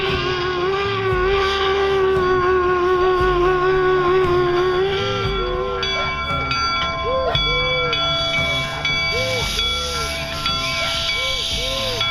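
The Jupiter steam locomotive rumbles and hisses as it pulls in at a Minnesota event, with a sustained whistle tone, bell-like pings and steady mechanical clanking over a busy outdoor crowd.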